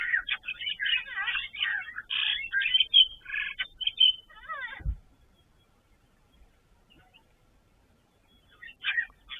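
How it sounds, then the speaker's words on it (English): Grey go-away birds call in bursts of chirps and harsh notes, a dense chattering for several seconds at a waterhole, then near quiet, then a few more calls. "You can hear some grey go-away birds, apart from the red-billed buffalo weavers."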